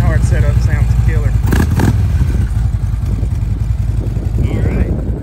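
Deep, steady rumble of a 2014 Harley-Davidson Electra Glide Police motorcycle's Rinehart dual exhaust running close by, with someone talking over it part of the time.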